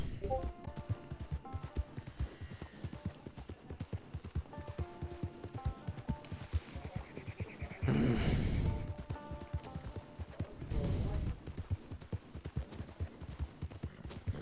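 A horse gallops in the online western video game Red Dead Online, steady rapid clip-clop hoofbeats running throughout at moderate volume, with two brief bursts of louder noise partway through.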